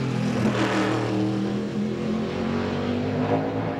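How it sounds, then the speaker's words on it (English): A Ford NASCAR stock car engine runs loud and steady during qualifying at Martinsville, with a dense, continuous V8 roar that holds near through the whole stretch and only slight shifts in pitch as it moves through a transition. "does the car sound like it blubbers just a little bit there, but in transition, Larry?"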